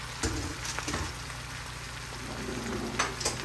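Potatoes frying in butter and olive oil in a skillet give a faint, crackling sizzle with a few sharp pops and spatters, steady and close with no one speaking.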